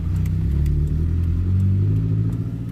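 A car engine revs hard and drops as the driver works through the gears. The low, throaty drone sits close and loud with brief clattering breaks between shifts, and there is no talk.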